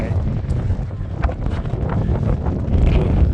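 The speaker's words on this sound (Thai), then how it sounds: "ลมแรงที่ไป" Strong wind gusts buffet the microphone on the Everest Base Camp trek at roughly 4,700 to 5,000 metres, making a loud, continuous rumbling roar with uneven bursts throughout.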